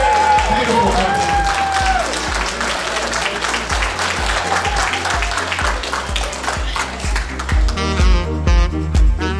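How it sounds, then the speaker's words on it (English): Wedding reception guests in Melbourne give a round of applause amid crowd noise and talk, with a rhythmic beat of music thumping underneath and voices carrying over it. "Round of applause."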